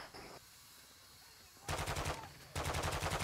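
Automatic gunfire from AI bots in the DMZ mode of a Call of Duty shooter: two sustained rapid bursts, moderately distant, with a brief earlier burst and quieter gaps between.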